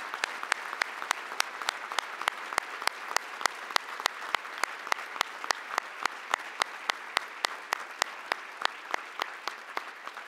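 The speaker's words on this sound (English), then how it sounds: "Please join me in a round of applause for all of today's recipients" Applause for award recipients at a 2018 Project Safe Neighborhoods achievement awards ceremony: continuous clapping from a seated audience, with a few sharp, prominent claps standing out near the front at an even rhythm throughout.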